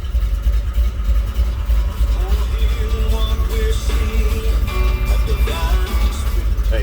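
A 1972 Chevrolet C10 regular-cab long-box pickup runs with its exhaust cutouts open, giving a loud, continuous low engine rumble with slight shifts in tone throughout.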